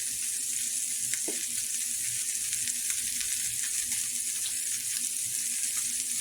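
Meat sears in a pan on a homestead kitchen stove, making a constant hissing sizzle with faint crackles and a few light clinks, with no talk.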